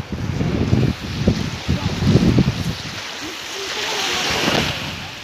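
Sea waves washing in at Kargil beach in Bakkhali, a broad steady surf roar mixed with gusty wind buffeting the microphone, loud and continuous with no voices.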